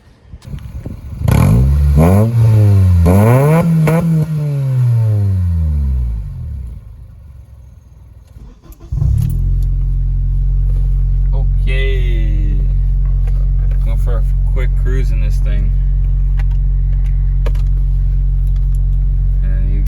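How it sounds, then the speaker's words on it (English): Acura RSX with Vibrant mufflers and poorly welded exhaust, driven around the block: a loud engine rises and falls through several revs, then settles into a steady, droning exhaust note while cruising. "driving it around the block here and what the exhaust sounds like"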